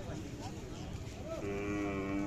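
A Khillar cow moos loudly at a Sangola cattle market, a long drawn-out low call rising in the second half over a steady background of crowd murmur and livestock noise.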